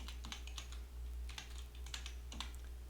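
Computer keyboard typing with a press of the Enter key, a run of light quick clicks close by, over a faint low hum with no talk.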